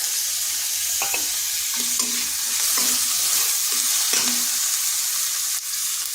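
Half a tomato goes into frying ginger-garlic in a pan, with steady sizzling under several distinct scraping stirs of a spatula and no voices.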